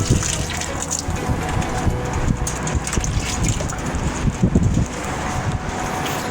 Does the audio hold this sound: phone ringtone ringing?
no